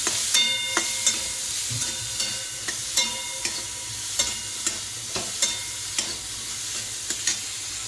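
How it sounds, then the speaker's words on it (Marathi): Tomatoes with their seeds removed sauté in a pan over a low gas flame for pasta, giving a steady sizzle with regular scraping stir strokes about every half second, close and alone. "हा मी टाकला आहे टमॅटो गॅस मी थोडा बारीकच ठेवला आहे"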